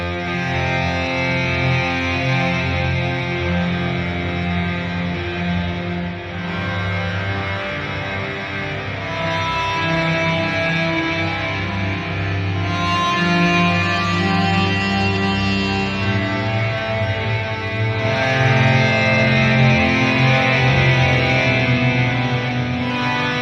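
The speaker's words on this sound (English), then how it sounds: "Long distortion sustain." Heavyocity Scoring Guitars 2 instrument playing a long distortion-sustain guitar tone, a dense, harmonically rich drone held loudly and continuously with slight swells, no voices.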